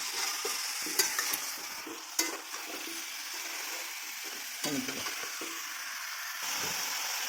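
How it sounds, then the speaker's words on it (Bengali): New potatoes and chicken pieces stir-fried together in a pan for a Bengali potato chicken curry, with steady sizzling and scraping of a spatula and a few sharper clatters, close and alone without talk. "আলু নতুন আলু দিয়ে আলু আর মাংস একসঙ্গে কষিয়ে নিই।"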